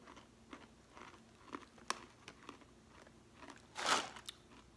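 Close-up crunching as someone bites and chews a crisp snack, with scattered crackly chews and one loud crunch near the end, otherwise quiet.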